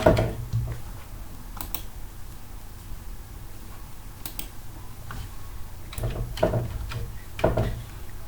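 Typing a captcha code on a computer keyboard: quiet, sparse key clicks in small clusters, with a few louder taps near the end over a low background hum.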